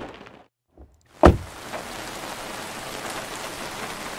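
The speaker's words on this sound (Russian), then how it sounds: "дождь идет довольно шумно" Steady rain hissing throughout a scene in the video game Chasing Static, preceded by a sharp door-like thud after a moment of near silence.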